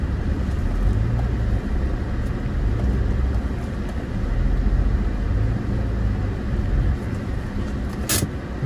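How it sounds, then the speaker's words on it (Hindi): A car maneuvers into a parking spot, its engine a steady low idle rumble close by that swells and eases as it creeps along, with a brief sharp click near the end. "अब गाड़ी यहाँ पार्क करनी है"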